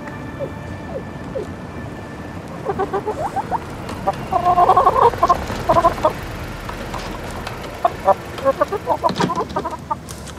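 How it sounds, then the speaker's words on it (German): A loose chicken on a city street clucks in repeated bursts, fairly close, over steady outdoor background noise with no talking. "Hier läuft ein Huhn frei auf der Straße."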